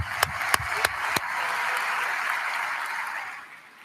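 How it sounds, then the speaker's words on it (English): Applause for the musicians at a high school graduation ceremony: a few sharp, separate claps open into a steady, full wash of crowd clapping that holds for a few seconds and then begins to fade. "Let's give a big round of applause for our musicians."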